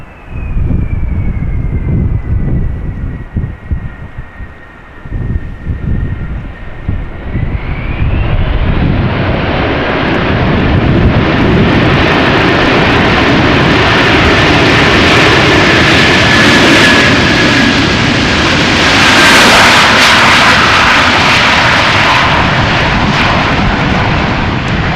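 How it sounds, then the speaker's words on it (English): A Delta Airlines A330-300 lands at Amsterdam Schiphol in gusty crosswinds, its engine whine sliding down before a loud, sustained roar of thrust reversers that swells and builds close by, buffeted by wind noise. "That is exactly what I was hoping for, a little bit of reverser action there."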